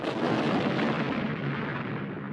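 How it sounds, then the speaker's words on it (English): An enormous cannon exploding in a story of the Mexican army at the Alamo, a loud dense burst of rumbling noise that fills the whole moment and fades slightly at the end. "The next morning, the Mexican army used the cannon. It exploded."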